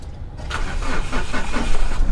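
A 2013 Mahindra Scorpio SLE in a second-hand car market in Delhi is started close by, its engine cranking briefly and then catching into a steady, rumbling idle with no talk.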